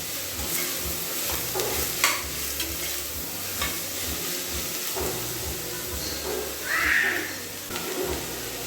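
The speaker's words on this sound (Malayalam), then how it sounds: "ഇനി അതിലേക്ക് കട്ട് ചെയ്ത് വെച്ച ചെറിയുള്ളി ചേർത്ത് കൊടുക്കാം ഒന്നുകൂടെ ഒന്ന് മാറ്റി കൊടുക്കാം" Chopped shallots being stirred in a hot pan for a beef curry, with a steady oily sizzle and repeated scraping strokes of a spoon against the pan, close and fairly loud.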